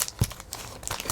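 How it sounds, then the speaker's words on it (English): Scissors cut open a plastic comic book bag, giving a brief close crinkling and crunching of stiff plastic with one sharp snip, fairly quiet and without talk. "Either I have scissors or this is really good bags that just won't cut that well."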